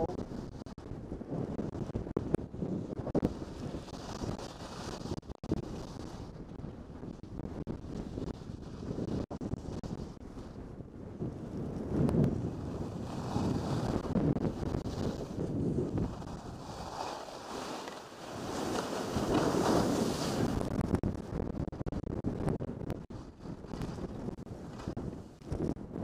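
Strong wind buffets and roars across an icy ski slope at Stratton, rising and falling in gusts over a continuous rushing hiss.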